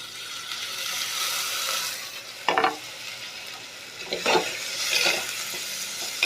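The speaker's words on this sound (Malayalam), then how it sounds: "നമുക്കിനി ഈ തക്കാളി അതിലേക്ക് കൊട്ടാം" Tomatoes added to browned onions in a pan for chicken curry, with a bright steady sizzle and a few loud bursts of spatula stirring and scraping against the pan.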